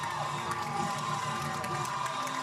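A high school baseball crowd cheers loudly as Blair Oaks wins the Class 3A state championship on a walk-off, a sustained wall of shouting, whooping and clapping.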